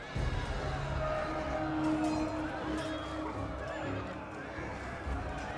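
A horse whinnies amid a Total War Attila land battle, the neigh rising over a dense, steady roar of fighting troops and crowd noise, with someone commentating over it.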